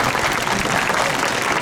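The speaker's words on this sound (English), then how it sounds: "So we'll give him a round of applause for his health checks." A safari park audience applauds a sea lion after its health checks, dense, steady clapping from many hands sustained throughout the short burst.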